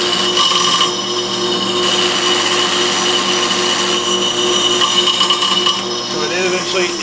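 Accusize tapping head running in a machine shop, a loud continuous mechanical whine with steady tonal hum and shifting high-pitched harmonics, rising and easing slightly as the tap engages.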